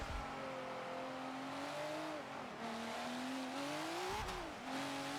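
A race car engine in Forza Motorsport 7 revs in first gear, its tone rising and dipping through a corner with a brief lift and a sharp burst near the end. The steady, close drone plays alone at low volume.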